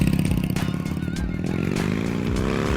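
A customized Honda TMX 125 Alpha scrambler motorcycle engine runs steadily close by, a dense throbbing idle with a slight rise in pitch toward the end, with some clatter mixed in.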